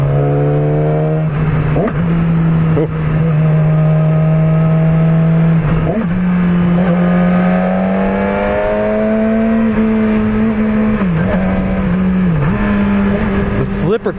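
Engine of a 2016 Yamaha R6 sport motorcycle revving steadily while being ridden, its loud drone shifting pitch up and down through gear changes over rushing wind, with a brief exclamation from the rider.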